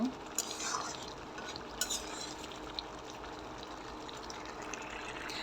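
Lentil dal with green vegetable stalks gently stirred in a pot on the stove, with soft scraping and faint clinks of a spoon over a low steady bubbling background, no talking.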